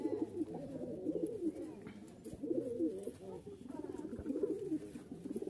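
A male Giribaz pigeon from Rajshahi coos in low, repeated rolling phrases, close and moderately loud, with faint background rustles and a voice nearby.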